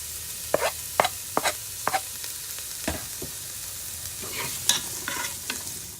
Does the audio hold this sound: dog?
no